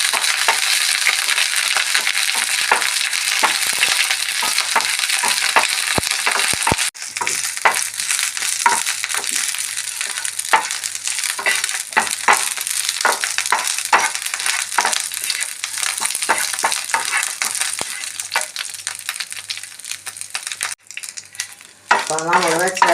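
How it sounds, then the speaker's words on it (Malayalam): Curry leaves fry in a pan with a loud, continuous sizzle and crackle, while stirring adds frequent scraping clicks close by and a brief voice is heard near the end. "അപ്പോൾ നമ്മൾ വെച്ച വേപ്പില നന്നായിട്ട് ഫ്രൈ ആയി."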